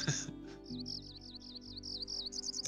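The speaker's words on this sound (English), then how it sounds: "Click the bird to make it do its chirping." A chirping bird call in the Wingspan digital board game, a quick series of bright, repeated tweets played alone over a soft, low background.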